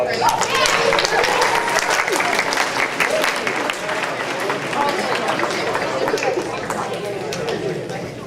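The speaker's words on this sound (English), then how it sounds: "give these students a round of applause" An audience in a school auditorium claps steadily for students at a high school band awards ceremony, a dense sustained wash of applause with faint chatter underneath.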